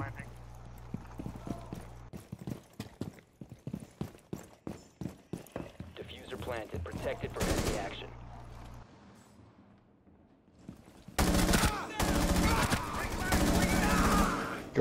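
Gunfire in Rainbow Six Siege comes as dense, loud rapid bursts near the end, after a stretch of rhythmic thuds and quieter game sounds.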